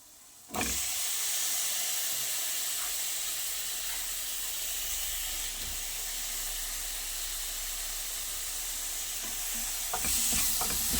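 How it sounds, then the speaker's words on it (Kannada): Tomatoes hit hot oil in a pan for Bangalore-style brinjal dal, setting off a sudden sizzle that settles into a steady, close frying hiss, swelling again briefly toward the end. "ಈಗ ಟೊಮೆಟೊ ಹಾಕ್ತೇನೆ."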